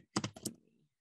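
Several quick keystrokes sound on a computer keyboard, a short close cluster of clicks lasting well under a second, then silence.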